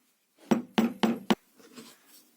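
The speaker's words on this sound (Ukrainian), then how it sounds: "Вставляю в заготовку і забиваю гайку, щоб гайка рівненько йшла." A nut being hammered onto a bolt set in a wooden workpiece, the bolt serving as a pilot guide: four sharp, ringing metallic strikes in quick succession, close and loud, followed by a softer scraping tail.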